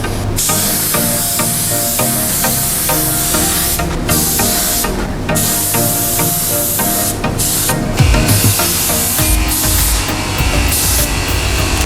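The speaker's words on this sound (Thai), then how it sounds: "ครับตอนนี้เราจะมาสเปรย์ไข่นะครับ เพื่อที่จะให้ผิวเขาเงาสวยงามนะครับ" Egg wash sprayed onto giant croissant dough in a bakery kitchen gives a steady, close hiss of fine spray, with short pauses between bursts over background music.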